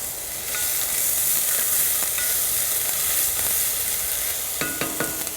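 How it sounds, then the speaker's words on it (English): Onion frying in oil sizzles loudly and continuously while a spoon stirs it, with several crisp clinks against the pan near the end, no voices. "gonna give it a stir here,"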